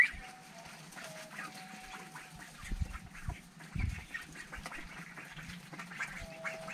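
Itik ducks on a rural Philippine farm keep up a stream of quacks at moderate distance, the females' deeper, louder calls standing out among softer scattered calls from the flock.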